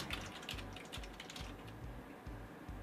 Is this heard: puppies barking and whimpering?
no